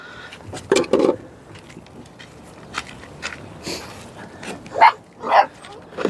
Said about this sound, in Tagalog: wag natatahol. busog na kayo.